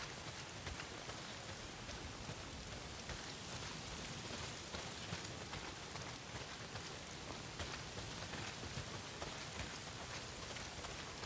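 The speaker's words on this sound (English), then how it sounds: "Well, not if it's pissing down rain." Heavy rain pours steadily in the Days Gone video game, a dense, constant hiss of downpour at even loudness with no talk.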